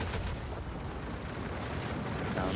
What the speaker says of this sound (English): So I start shooting these barrels, making sure there's no people C4 waiting for us.